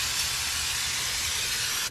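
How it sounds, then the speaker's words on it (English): Brake cleaner sprayed from an aerosol can onto the front brake rotors of a 2017 Land Rover Discovery, a loud steady hiss lasting about two seconds, close and alone. "Just grab a can of brake clean, spray that oils, get all the oils and everything off of them."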